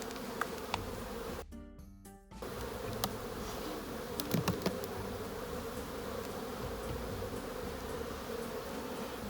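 A steady, dense buzz of many honeybees hums continuously around an open hive in March, with a brief cut in the middle and occasional faint clicks.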